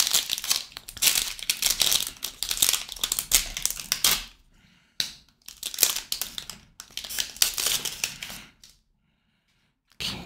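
Crinkly foil wrapper of a Draft Picks football trading card pack being torn and crumpled open at close range, in several loud bursts separated by brief pauses, with no talking.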